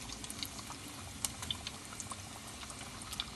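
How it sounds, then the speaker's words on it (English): Egg rolls fry in hot oil with a steady, faint crackling sizzle, scattered sharp pops and bubbling throughout, with no voices. "So it's frying now. See, it's really bubbling. The oil is hot now."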